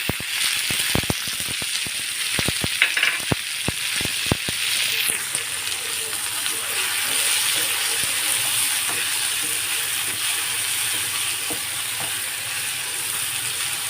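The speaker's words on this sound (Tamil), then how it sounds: "இதை இப்போ நல்லா வதக்கணும். தக்காளி சேர்த்துக்கலாம்." Onion and tomato sautéing in a pan for a pasta dish, with a steady loud sizzle, a few sharp clinks of a spoon against the pan early on, and some talk underneath.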